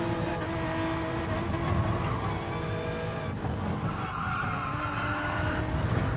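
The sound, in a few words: race car braking and skidding, video game Gran Turismo Sport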